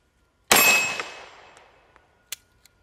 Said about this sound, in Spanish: ya era el último disparo